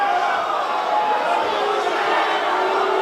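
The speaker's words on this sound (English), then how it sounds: "And the crowd will boo" Arena crowd at an MMA event booing a stoppage in the action, a dense, sustained mass of voices at an even level throughout.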